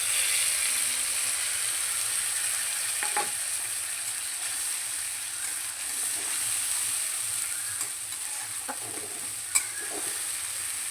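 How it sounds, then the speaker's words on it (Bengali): Spice paste with a little water frying in a pan gives a steady, even sizzle that holds for the whole stretch, with a few faint clinks of stirring and no voices. "মশলার পেস্টটা দিয়ে দিচ্ছি মশলার বাটিটা দিয়ে অল্প একটু জল দিয়ে দেবো"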